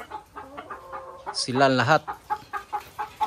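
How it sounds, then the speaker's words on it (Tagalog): Layer chickens clucking steadily in a poultry house, close and repeated, with one louder drawn-out squawk in the middle and a person speaking briefly over them. "yung manok na mga ililipat pa"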